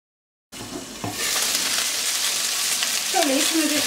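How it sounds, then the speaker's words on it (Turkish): Peppers drop into a hot pan together and fry with a loud, steady sizzle that starts abruptly after a brief silence, with a few stirring knocks and a voice speaking over the top. "O yüzden beraber atıyoruz ki beraberce kızarsınlar diye."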